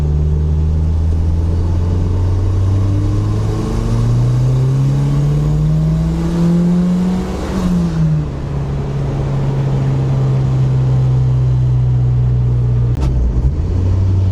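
Inside a turbo Datsun wagon on a test drive, the engine drones loudly and steadily, climbing in pitch as it accelerates, dipping at a shift, then holding a constant cruising hum.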